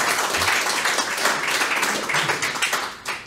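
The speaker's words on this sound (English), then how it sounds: "Big round of applause." Studio audience applauding at a talk show, a dense wash of many hands clapping that stays loud throughout and tapers slightly at the end.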